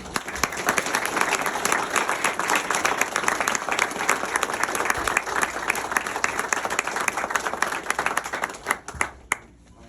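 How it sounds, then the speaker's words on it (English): People at a Mount Holly, New Jersey township council meeting give a full round of applause, sustained, dense clapping by many hands at close range that thins to a few final claps. "Let's give these individuals a round of applause as well."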